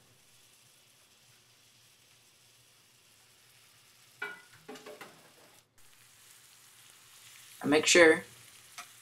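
Bananas cooking in butter and brown sugar in a pot give a faint, steady sizzle with brief bursts of stirring and scraping, and a voice speaks briefly over the cooking.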